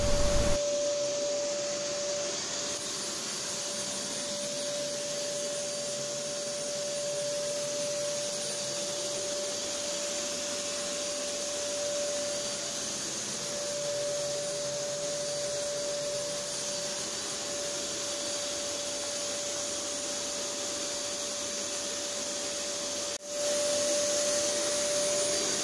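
A Fakir Ranger vacuum cleaner runs at maximum suction for the whole stretch. Its motor gives a loud, steady roar with a constant high whine. Near the end there is a brief break or bump in the sound. No one speaks.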